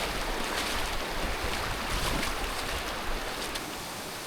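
Jungle waterfall on Lombok, heard as a steady, loud, broadband roar of falling water that continues evenly without voices.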